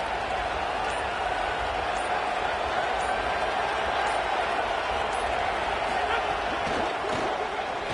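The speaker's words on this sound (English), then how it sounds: "It's early, but this crowd is fired up. Listen to this noise here." A packed stadium crowd in a college football video game roars with a constant, dense wall of cheering and noise that never lets up.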